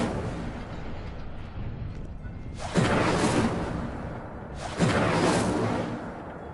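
The Incendio fire spell is cast twice in Hogwarts Legacy, each a sharp whooshing burst of flame that swells and fades over about two seconds, over a low rumbling ambient background.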